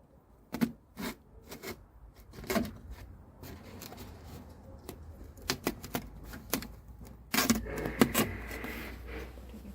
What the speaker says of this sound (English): just get a knife and cut out a little piece